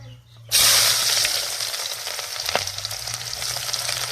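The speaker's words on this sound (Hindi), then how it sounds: "तेल गरम हो चुका है, तो अभी प्याज लहसुन सब डालेंगे।" Onion and garlic hit hot oil on a tawa with a sudden loud burst of sizzling that settles into a dense, continuous crackle close by, over a faint low hum.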